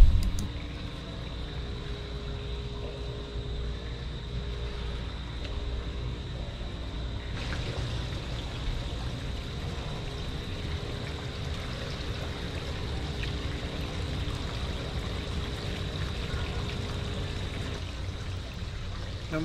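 Steady water flow in an indoor pond, a continuous soft trickling and rushing that stays even and moderately quiet throughout, with no voices.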